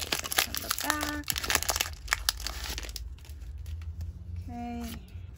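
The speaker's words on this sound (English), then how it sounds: "we'll rip it open from the back" Foil Pokémon card booster pack from a Paldean Fates bundle being torn open from the back, a close crinkling and ripping that runs for a few seconds, with brief high voice-like tones at two points.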